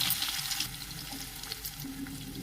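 Onions and whole spices (cloves, cardamom, cinnamon) fry in hot oil for a potato and fenugreek dish, a soft steady sizzle heard close with faint stirring.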